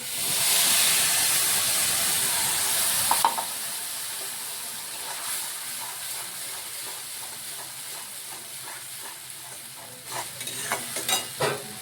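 Spices hit hot oil tempered with black cumin seeds for a pomfret coconut curry, giving a loud, steady sizzle and hiss that drops in intensity after a few seconds, with scattered stirring clinks near the end.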